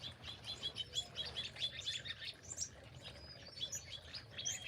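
Several small birds chirp and tweet in a garden, a steady overlapping chatter of short, bright calls at moderate distance over a soft low background rumble.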